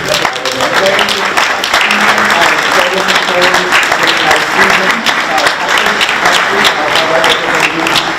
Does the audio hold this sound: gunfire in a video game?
no